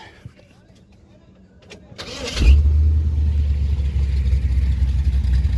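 A 1957 Chevy with headers and glass pack exhausts cranks briefly and fires up, settling into a loud, deep, steady rumble after a quiet start with faint clicks and handling noise.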